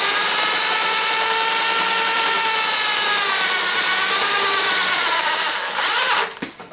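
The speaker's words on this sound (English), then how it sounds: "we're done with the drilling" A power drill boring through a pressed-in metal plug on a Volkswagen full-flow oil filter setup whines steadily at high speed, close and loud, its pitch wavering slightly before it cuts off near the end.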